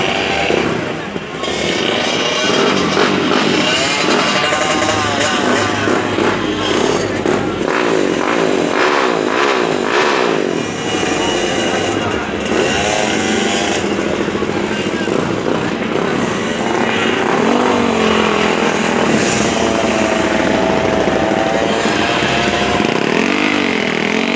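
A racing motorcycle ridden by a woman at a speed race event, roaring and revving loudly and continuously at high speed, with the engine note rising and falling throughout.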